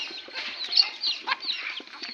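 Several hens of a 25–30 bird mother stock on a poultry farm cluck and murmur nearby in a soft, irregular chorus, with a few sharper clucks standing out.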